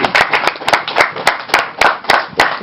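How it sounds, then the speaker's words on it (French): Crowd clapping at a vodun divinities celebration in a sacred forest, loud and near, with irregular bursts of hand claps rising and falling in uneven rhythm. "Vous l'applaudissez."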